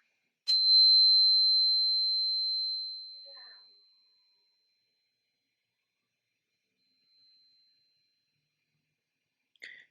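A single meditation chime is struck once, ringing with a clear sustained tone that slowly fades away to silence, followed by a faint later trace and a brief soft sound at the end.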